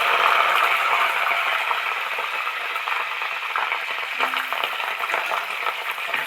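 Cauliflower florets frying in a pan of oil, giving a continuous dense sizzle with light crackles and occasional clicks, steady and close throughout.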